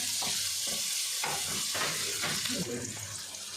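Masala with turmeric frying in a pan for kadhi pakora gives a steady, close sizzle, with spoon stirring scraping through it.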